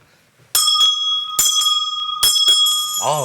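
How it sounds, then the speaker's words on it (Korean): A bell struck three times during a live Korean stock market opening broadcast, each strike ringing loud and close with a bright metallic tone and short decay, followed by a brief tonal sweep at the end. "아, 종을 쳐주시죠."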